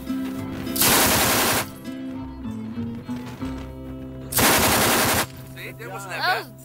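Firearm letting off two loud rapid bursts of automatic gunfire a few seconds apart, close by, with lower background noise between.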